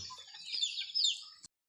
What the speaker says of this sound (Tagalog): Sila yung mga alaga kong mga manok guys